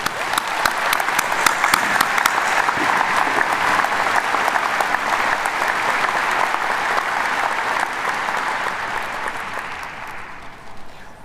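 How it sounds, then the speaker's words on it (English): A graduation ceremony crowd gives a sustained round of applause, loud, dense clapping holding steady for about ten seconds before tapering off. "How about another round of applause?"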